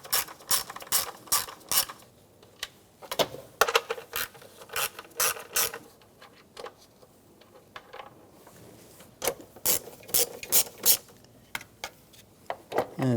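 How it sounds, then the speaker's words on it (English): A ratchet with an 8mm socket loosens engine cover bolts on a 2009-2013 BMW 328i xDrive, crisp close clicking in quick clustered bursts with short quiet gaps between them. "Take these bolts out."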